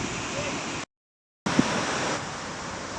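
Nuranang waterfall pours down with a broad, steady roar of splashing water that throws spray far, close and continuous, broken by a brief dropout midway.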